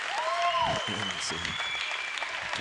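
Spectators applauding a boys' team gymnast's vault at a 1987 high school gymnastics meet, a steady wash of clapping under a commentator's voice and a faint whistle-like tone.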